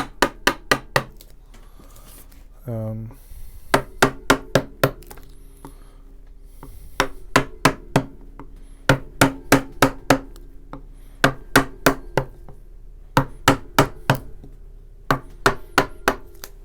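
A flat gouge struck with a mallet while carving wood by hand, sharp repeated knocks in quick clusters of taps with short pauses between, close and loud, with a brief scraping rub near the start.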